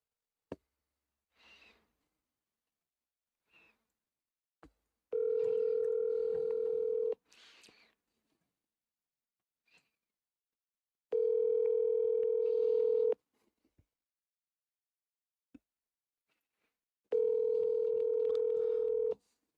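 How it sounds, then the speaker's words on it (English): Three bursts of steady telephone dial tone, each about two seconds long, with short dialing beeps in between, heard while calling phone numbers for a wholesaling real estate buyer's list. Quiet, close, and alone, with no talking. "So last number I called was up there, so let's call some more."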